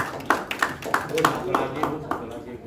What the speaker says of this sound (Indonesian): Sekali lagi kita berikan aplaus untuk Bapak Andreas